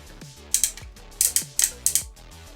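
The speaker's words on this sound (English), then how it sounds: "If you listen to this ratchet" Ratcheted knee joint of a Masterforce Headmaster Junior toy figure being flexed, giving three quick pairs of sharp plastic clicks at close range, evenly spaced with short pauses between.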